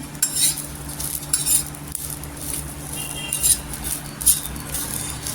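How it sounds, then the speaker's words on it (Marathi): Dry coriander seeds rattle and patter against a hot metal griddle as they are stirred, with light scraping and intermittent clinks of a spoon. "एक दोन मिनिटं छान असं तव्यावर भाजून घेतलेलं आहे।"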